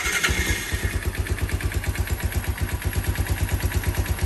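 A Yamaha DX motorcycle engine idling after a carburetor fix with a Chinese carburetor, a close, steady low putt-putt with a regular pulsing rhythm and a slightly low idle, heard alone.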